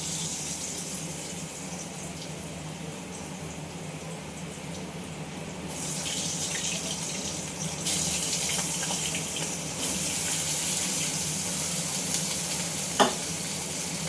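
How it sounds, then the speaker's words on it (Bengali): Potato pieces sautéing in oil in a pan ahead of adding ridge gourd and stems, a steady hiss and sizzle that swells louder partway through, with a sharp click near the end and no talk. "আলুটা সাঁতলে নিই"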